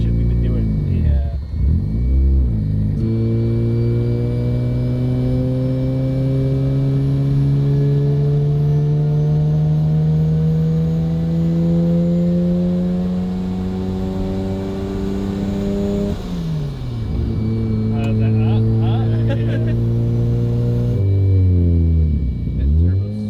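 A turbocharged FC car engine, restarted after sitting for 15 years, runs with a steady rumbling note that climbs slowly as it revs, then drops and rises again, close and loud throughout.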